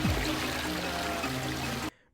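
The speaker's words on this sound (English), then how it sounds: "they pull the car out of the water" Water pouring and streaming off a car as it is pulled out of the water in a movie scene; a steady, continuous rush that cuts off abruptly near the end.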